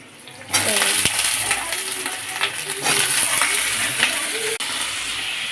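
Chopped onions fry in hot oil in a home kitchen, with potatoes to follow. A loud, dense sizzle bursts in after a moment and holds steady, broken by a few metallic clinks of stirring and some faint background voice.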